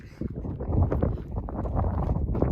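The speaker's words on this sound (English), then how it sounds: "It's cold, though. The wind is intense." Strong, cold wind gusts outdoors at a canyon overlook, a steady broadband roar with buffeting against the microphone throughout, loud and continuous with no talking.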